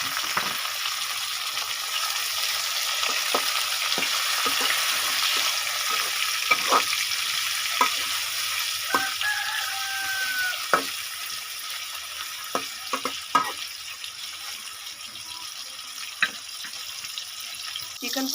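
Chicken potta frying with tomatoes in a pan, a soft continuous sizzle with scattered clinks and scrapes of stirring, with faint talk in the background.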